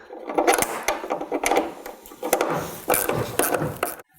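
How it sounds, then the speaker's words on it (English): A ratchet wrench with a size 8 socket turns the inner bolts of a taillight housing on a 2017-18 Ford F-150 Raptor, giving several quick bursts of close, loud ratcheting clicks with brief pauses between them. "using a size 8 socket, remove these 2 inner bolts here, and pull directly back"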